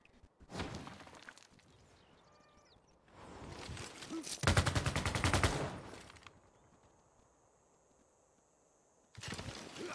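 Bursts of machine gun fire from the strategy video game Civilization 6, as machine guns hold off charging cavalry units; several loud rattling volleys separated by quieter gaps, with a final burst at the end.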